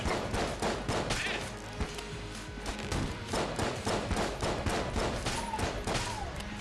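Bullet-shaped enemies shooting in Enter The Gungeon, heard as rapid, continuous volleys of game gunfire with thumps and impacts, steady and loud throughout.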